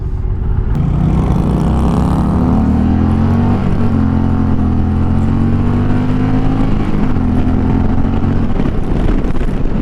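A 2020 Indian Challenger motorcycle engine on a ride, a loud steady low drone with rising and shifting tones as it pulls through gears, with constant wind rush.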